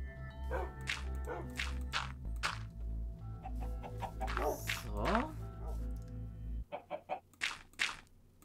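Minecraft chicken clucks sound repeatedly in short bursts over game music, with a few sharper clucks standing alone near the end.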